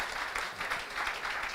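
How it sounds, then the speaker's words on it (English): Applause for award winners at a robotics awards ceremony, a steady wash of clapping from the audience, fairly loud and sustained throughout. "an applause for"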